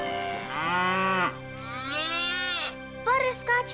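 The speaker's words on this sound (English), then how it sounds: "Oh, it's a baby cow!" A cartoon cow and her newborn calf moo, with two long, drawn-out, wavering moos followed by a few shorter, choppier calls, all close and clear.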